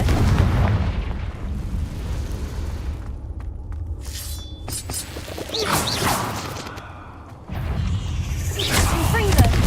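Repeated Confringo blasting-spell explosions in Hogwarts Legacy, loud booming blasts with whooshes and crashing debris layered over a rumbling game backdrop, with a short lull midway before more bursts.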